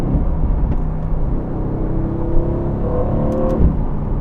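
A 503-horsepower Aston Martin Vantage pulls hard in third gear on a country road. A loud, deep engine drone rises steadily in pitch from inside the cabin, heard alone without speech.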